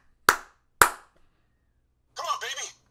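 Two sharp, loud hand claps spaced about half a second apart, aimed at triggering a Clapper sound-activated switch plugged into a wall outlet, followed after a pause by a brief burst of talking.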